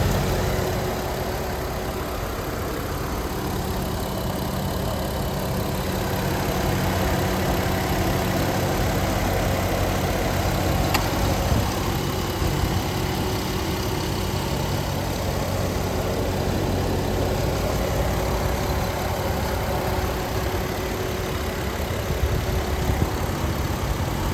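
Jeep Wrangler Unlimited Sahara 4WD with a 3.8-liter engine and the air-conditioning compressor engaged idles steadily for the whole stretch, a constant low hum and whir with no voices.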